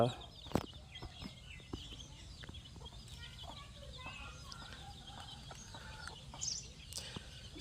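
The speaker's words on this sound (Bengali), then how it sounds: "ছোট ছোট মুরগির বাচ্চা বড় মুরগি সকালবেলা আহার করতেছে" Chickens and small chicks feed in the morning, with soft clucks and short chirps scattered over a steady outdoor background and one sharp nearby call early on.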